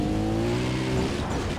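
A buggy in Far Cry 3 drives with a loud, droning engine note that rises slightly as it moves, steady and close with no talk.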